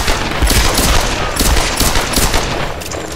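Rapid pistol gunfire from the video game Tomb Raider, a dense run of loud, crackling shots following one another without pause for about three seconds, with no talk over it.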